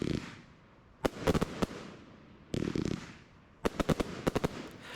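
Prestigious Pyrotechnics Audacious firework compound with comets and V-fired brocades, UK, sending up loud cracking bursts in quick clusters, with hissing launches before each group of sharp pops.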